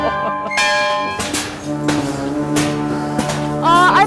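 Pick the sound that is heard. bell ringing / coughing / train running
bell ringing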